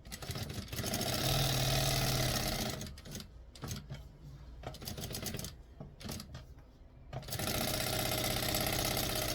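Sewing machine running steady topstitching passes on a bag or necessaire at stitch setting 4, loud continuous whirring bursts at start and end with a quieter stretch of handling noises in between.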